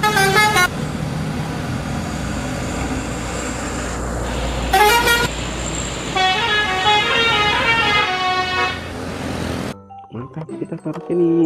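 An Agra Mas bus passes close by on the road, sounding loud melodic tooting horn blasts in several bursts over engine rumble, with a voice talking briefly.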